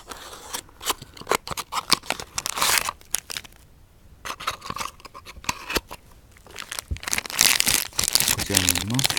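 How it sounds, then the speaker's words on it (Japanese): A Tomica Toyota Crown taxi event model toy car is unboxed, with crisp crinkling, tearing and snipping of packaging in rapid bursts, close and fairly loud, while a person talks intermittently. "開封していきます。"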